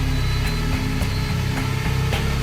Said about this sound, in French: je vais commencer à vous augmenter graduellement les moteurs